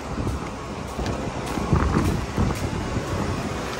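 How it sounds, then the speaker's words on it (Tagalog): Wind blows outdoors and buffets the microphone with a steady, rough rumble and gusts that rise and fall, with no voices heard. "Teka lang, mahangin."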